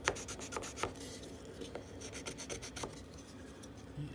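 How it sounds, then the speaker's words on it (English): A blade rasps through drywall to notch it out for a plumbing valve during a bathroom renovation, quick repeated scraping strokes up close, uneven in rhythm, with no talking. "I'm actually just going to notch out this drywall right back here on the other side"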